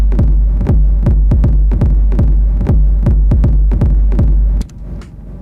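An Elektron Digitakt plays a repeating deep pulsing beat with delay sent into reverb, each hit echoing in a steady rhythm, loud and close, until the pattern stops and a faint tail remains.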